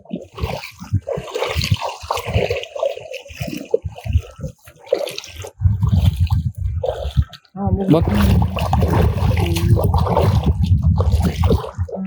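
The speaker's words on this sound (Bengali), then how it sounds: "কত সুন্দর সাউন্ড দেখছিস পানির" Water flows continuously outdoors in a village, a rushing wash that is loud in the second half, while people talk over it.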